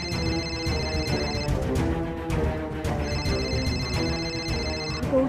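A telephone rings in a domestic drama scene: two electronic ringtone bursts of repeated high tones, each about a second and a half long, separated by a short gap, with background music underneath.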